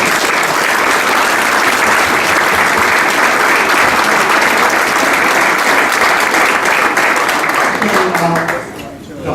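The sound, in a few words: audience applause for panelists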